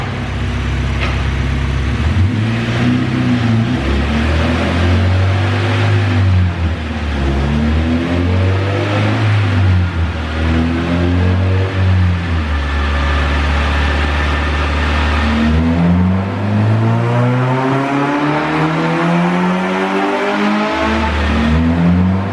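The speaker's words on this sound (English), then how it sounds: "So I want to do one dyno run real quick while it's still on pump gas" A K24-swapped sedan running on pump gas during a dyno run, its engine revving loud and close in repeated rising pulls and falls, with a droning, harmonic-rich tone throughout and no talking.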